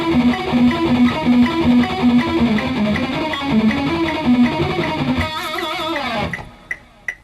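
Fast shred lick on a distorted electric guitar in a metal chop-building exercise, loud and continuous with rapid picked notes over sustained chords, breaking off near the end with a couple of short sharp hits.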